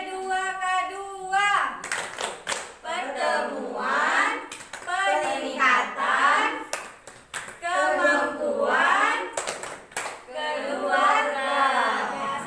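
A group of mothers claps in rhythmic patterns during a Tepuk P2K2 clap chant at a family meeting, with sharp clusters of claps punctuating their sing-song chanting voices, repeated several times.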